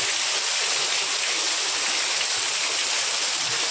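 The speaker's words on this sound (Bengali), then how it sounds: "এখন বৃষ্টিটা আসলে খুব ভালো লাগছে।" Dense, steady rain pouring down close by, a constant broadband hiss with no pauses or voices.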